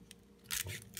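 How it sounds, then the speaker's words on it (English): Shears snip through the shell segments of a cooked crab, two or three short crisp cuts with a small rustle between them, close and fairly quiet. "You want to cut each segment just like that"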